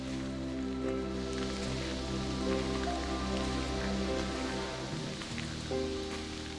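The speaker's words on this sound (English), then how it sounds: "looks like this light rain is going to stick around for a few more hours" Light rain falls steadily on a camper, a soft even patter under a constant low hum, with no talking.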